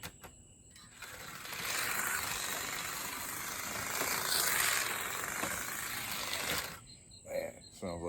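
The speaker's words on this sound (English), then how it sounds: "Yeah, that wheel is rubbing really bad on the passenger side. It's a lot of wobble in it. That's why it's so noisy." Modified Fly slot car with a wobbling wheel rubbing on the passenger side, spinning noisily on the track: a continuous gritty whirring and grinding gear rattle for several seconds, swelling and fading, with clicks at the end.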